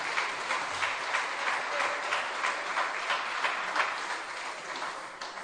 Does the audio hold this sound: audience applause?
yes